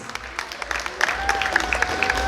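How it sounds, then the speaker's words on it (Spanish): Wedding guests clap for the bride and groom in a reception hall, a steady patter of applause building in a crowd. A sustained tone and a few brighter accents ride over it. "Fuerte los aplausos a los novios."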